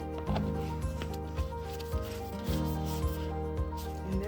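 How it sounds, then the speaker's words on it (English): A spatula scrapes the last of a homemade deep hair conditioner out of a bowl, making repeated short rubbing, scraping strokes in a steady rhythm, close and moderately loud, without talk. "I'm just going to scrape the rest of that on there"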